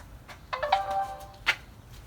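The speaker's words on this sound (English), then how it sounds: "Emmy, go ring the doorbell." An Arlo video doorbell gives a short electronic chime once with a couple of tones, then a brief ding follows; quiet room, no voices.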